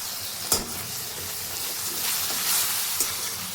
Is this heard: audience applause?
no